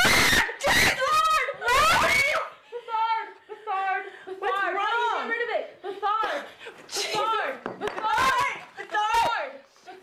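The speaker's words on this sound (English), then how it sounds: "The girl screaming seemed absolutely terrified." A girl screams in terror during a Ouija board session, several loud, sharp shrieks in quick bursts followed by wavering, whimpering cries and broken sobs, up close, with a few chuckles from others mixed in.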